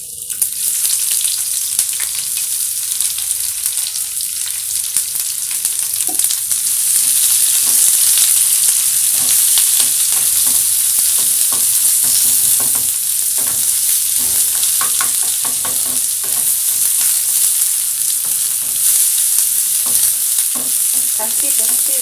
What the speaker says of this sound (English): Can see them sizzling.